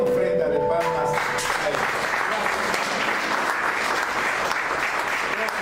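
A church congregation breaks into sustained, dense applause that keeps a steady level throughout, with a brief held tone and voices at the very start.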